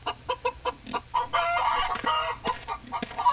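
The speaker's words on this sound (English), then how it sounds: "Right now they only have roosters here" Roosters crow and cluck in the Wild West Dynasty video game, with several clear, fairly close calls overlapping across the scene, including a longer sustained crow in the middle.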